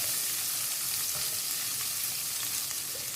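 Shallots, some halved and some whole, frying in oil in a pan for okra puli mandi, giving a steady, close hiss and sizzle throughout with faint stirring scrapes and no talking.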